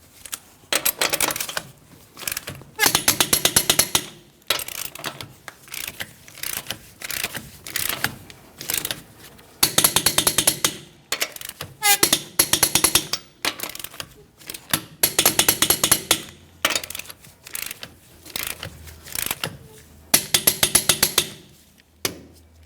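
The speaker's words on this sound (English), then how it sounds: "Let's go ahead and torque each one of our lug nuts to that 148 foot-pounds." A torque wrench tightens the lug nuts on a 2015-2025 Ford Transit 250 wheel in repeated bursts of rapid metallic ratcheting clicks, each run a few seconds long and separated by short pauses, close and clear.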